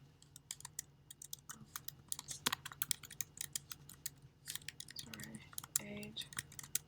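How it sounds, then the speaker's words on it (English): Typing on a computer keyboard, a quiet, irregular patter of close key clicks with occasional louder taps, continuing steadily, with brief faint murmurs of a voice partway through. "So I'll just type all the words."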